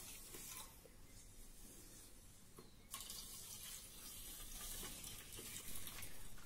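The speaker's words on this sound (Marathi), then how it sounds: "भगर धुवून झाला आहे" Barnyard millet (bhagar) being rinsed and swirled by hand in water gives a close, continuous sloshing and trickling wash that swells a little louder partway through, with no voices.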